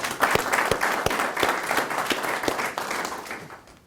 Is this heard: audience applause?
yes